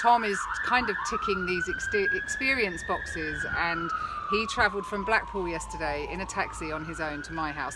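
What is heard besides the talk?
emergency vehicle sirens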